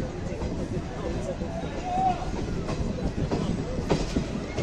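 The Black Diamond Express, a passenger train running between Howrah and Dhanbad, rumbles past on the rails in a dense, steady roar with a brief metallic squeal near the middle, heard from close by.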